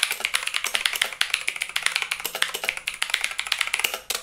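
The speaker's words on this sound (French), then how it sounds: "Par contre je peux vous dire déjà que ce sont des switches bleus." Fast, steady typing on an RGB gaming keyboard with blue mechanical switches, each keystroke a sharp, loud click in a dense, uneven rhythm, close and alone.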